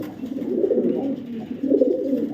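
Fancy pigeons kept for sale coo in soft, rolling low calls close by, a steady murmuring burble with a brief dip before resuming.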